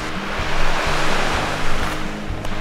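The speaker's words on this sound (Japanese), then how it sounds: "波の音いいな" Ocean surf rolls in steadily, a broad wash of waves breaking and receding with rhythmic swells, loud and close.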